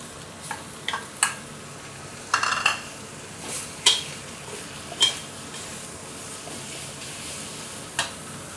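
Pork stir-fried with red curry paste in a pan for a home-style pork and eggplant curry: soft steady sizzling under scattered sharp scrapes and clinks of a spatula against metal, close up, with no voices.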